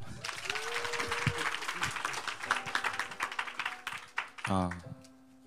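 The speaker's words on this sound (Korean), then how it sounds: "박수" A church congregation at an Easter service breaks into steady applause, dense clapping filling the room for several seconds, with some murmuring voices underneath and a brief tonal sound near the end.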